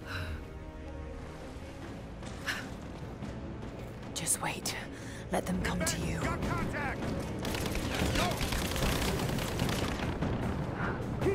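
Gunfire rattles in Rise of the Tomb Raider, with sporadic shots building into dense, loud bursts of fire over a rumbling game soundtrack.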